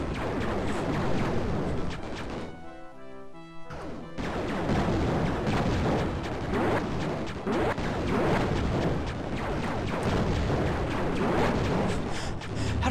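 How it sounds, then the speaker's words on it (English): Tank explosions in an aerial combat shooter game, dense loud blasts and crashing impacts rolling almost continuously, with one brief lull before the barrage resumes. "Blow up all the things."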